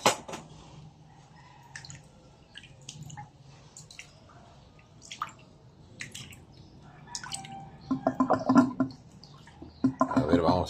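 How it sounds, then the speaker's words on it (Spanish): Water poured and splashing over wheat grains in a bowl for a third rinse while preparing wheat rice, with scattered drips early and louder sloshing bursts toward the end. "agregamos más agua para darle una tercera lavada"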